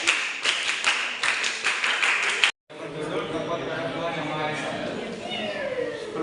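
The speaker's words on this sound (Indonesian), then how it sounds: "Aplaus satu kali tepuk pramuka." A scout group performs a Pramuka clap: a quick burst of rhythmic, closely spaced hand claps for a couple of seconds, then a short pause and a stretch of mixed room noise and voices.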